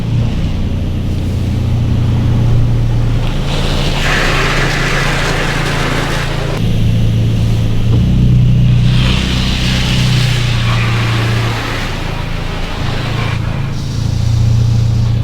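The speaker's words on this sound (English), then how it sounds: "So you got cleaning, washing, polishing, surface protection, spot-free rinse, air drying" An automatic car wash runs through its cycle on an Evo X, with a steady, loud drone of machinery plus rushing spray and blowing air that swell and fade in waves, and no talking.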